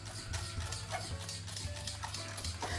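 Orange jelly mixture, made from three ingredients, being stirred in a pot on a switched-off stove burner while it still bubbles: soft, steady scraping and light tapping, quiet and close, with no talking.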